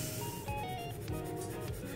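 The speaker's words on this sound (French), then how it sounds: "le blender qui gratte sur le papier." Soft, steady scratching and rubbing of a blender pencil tip across watercolour paper, with a faint low hum underneath and no talking.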